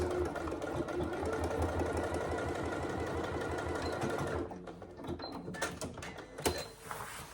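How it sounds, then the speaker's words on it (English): A sewing machine stitches steadily through thick vinyl or faux leather on a tall wash bag, a dense rapid mechanical whirr that runs loud for about four seconds, then stops and gives way to quieter clicks and small handling taps. "you might want to just go over the stitches again, just for reinforcement"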